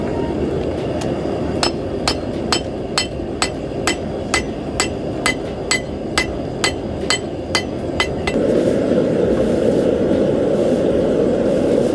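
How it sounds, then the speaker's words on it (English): Steady metal hammer strikes ring out at an even rhythm as a blacksmith forges knives in a brewery parking lot, about seventeen blows over a low rumbling background that grows louder once the hammering stops. "He's hammering some knives in a parking lot next to a brewery."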